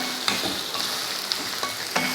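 Garlic, green chilli and dried anchovy sizzle loudly and continuously in a pan, with a few sharp taps from stirring breaking through the steady frying.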